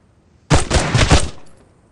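Video game gunfire in the online survival RPG Tomorrow: a loud, close burst of about five rapid shots lasting under a second, alone and followed by a brief tail.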